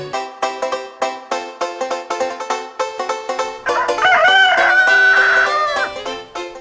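A cartoon rooster in a children's story of the Bremen Town Musicians gives one long, loud crow over a bouncy, plucked musical backing.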